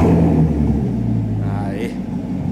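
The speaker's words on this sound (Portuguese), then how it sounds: "Só pra ouvir o ronco." A Corvette with an aftermarket exhaust kit starts up and revs, giving a loud, close, deep engine rumble that settles over a couple of seconds, with a voice speaking over it.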